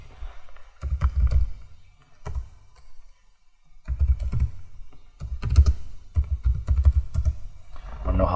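Someone types a command on a computer keyboard with quick bursts of clicking keystrokes, close and moderately loud, broken by short pauses between groups of presses.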